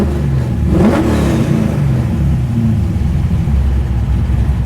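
A 416ci LS stroker V8 blips once with a quick, loud rev, then drops smoothly back to a steady, rumbling idle without stumbling, heard up close and alone.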